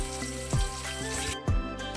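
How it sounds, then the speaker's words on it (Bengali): Small gangmoti fish frying in hot oil in a village kitchen, a steady close sizzle with two louder bursts of crackle about a second apart, no talking. "ছোট মাছগুলো কিছুটা ভাজা হয়েছে আর কিছুটা ভাজা চলছে।"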